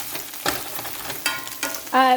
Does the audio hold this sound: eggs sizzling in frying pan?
yes